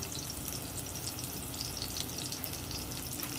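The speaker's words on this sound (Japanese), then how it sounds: "根菜にね火が通るまでまあ中火ぐらいでゆっくりと炒めてください" Sliced daikon radish and lotus root sizzling steadily in a hot frying pan over medium heat, a dense continuous crackle with no voices.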